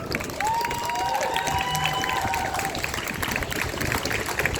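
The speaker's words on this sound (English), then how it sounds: "Another round of applause." Crowd applauding and cheering at an outdoor Palestine protest rally in Auckland, steady and sustained throughout, with a rising whistle or shout and scattered voices mixed into the noise.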